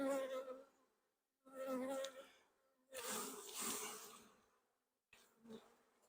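Honeybees buzz loudly close by in several swelling bursts while being knocked off a hive frame, separated by brief quiet gaps, with no talking.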